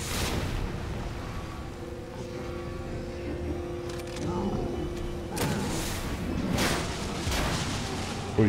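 Gunfire in Resident Evil 2 Remake, played as Leon Kennedy: a few sharp bangs late in the stretch over quiet game ambience and hum.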